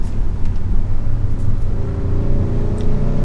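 A 2022 Hyundai Sonata N Line 2.5T FWD engine hums and rumbles steadily as the car accelerates in Sport Plus mode, heard from inside the cabin with a low, continuous drone.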